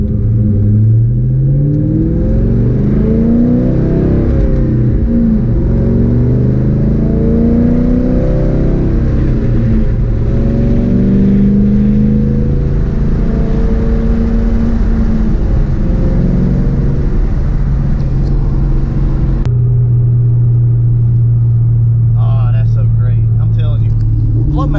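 A Cobra's engine with Flowmaster exhaust rumbles steadily with a deep, throaty note, revving and shifting as it drives, loud and close throughout.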